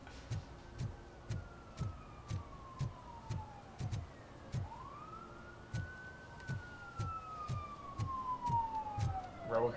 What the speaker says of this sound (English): Sirens in real life and in the game.